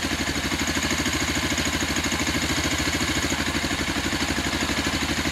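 Sachs X-Road 125 motorbike engine idles steadily and close, a continuous rapid low thumping pulse with no breaks or talk.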